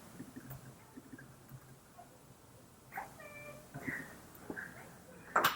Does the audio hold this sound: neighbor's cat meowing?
yes